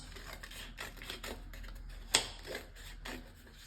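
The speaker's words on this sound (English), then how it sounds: "I'm going to cut them into strips of like 2 centimetre thick. So I cut down the strips." Scissors snip through stacked layers of paper, cutting it into narrow strips for a mosaic, with a run of soft, quick rhythmic cuts and one sharper snap, close and fairly quiet.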